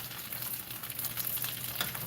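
Food for a Jamaican breakfast fries in a pan with a steady close sizzle and crackle, a continuous hiss with small pops and occasional stirring sounds, and no voices.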